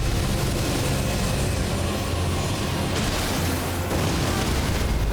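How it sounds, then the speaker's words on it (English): Deep rumbling roars and booming bursts from a dragon boss during combat in the action game Elden Ring, continuous and loud throughout with a swell near the end. "You can hear the dragon now."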